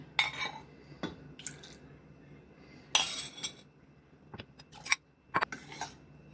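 Reserved water is poured back into a pan of amaranth lentil curry, heard as soft splashes and drips amid sharp clinks of a metal spoon against cookware, with no talking.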